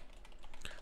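A few soft keystrokes on a computer keyboard tap out briefly and quietly, close by, while a prompt is typed into a coding assistant.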